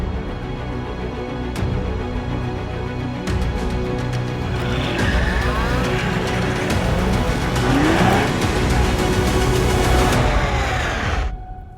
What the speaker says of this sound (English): a flat-out blast down a closed runway